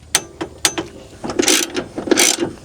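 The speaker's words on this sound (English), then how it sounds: "Alright, install the wheel, tighten these down." Ratchet wrench tightening wheel bolts on an ATV, close and loud, with sharp clicks followed by quick bursts of rapid ratcheting.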